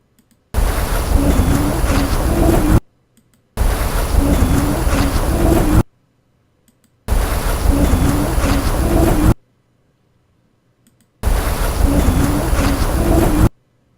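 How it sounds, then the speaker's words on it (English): Gusty wind buffets a microphone outdoors while someone walks, coming in four loud, steady bursts of several seconds each with near-silent gaps between. "it is windy and I'm walking"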